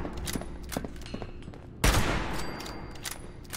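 A pump shotgun fired in Fallout 76, one loud sharp blast midway with a rough decaying tail, preceded by lighter scattered clicks and rattles of gameplay, close and without talk.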